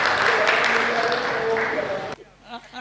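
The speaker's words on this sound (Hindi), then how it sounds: "भाई साहब के लिए एक बार तालियां तो बनती हैं" An audience at a comedy stage show breaks into a loud, dense burst of clapping that fills the room for about two seconds, then cuts off abruptly, leaving quiet with a voice.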